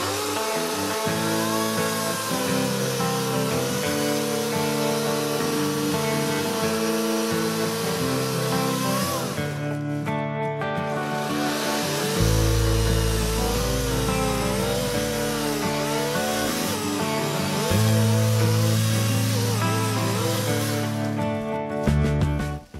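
A chainsaw makes the hinge cut while felling a tree during trail work, its engine droning loud and steady with shifting pitch, a brief dip near the middle and heavier loading toward the end, with no talking.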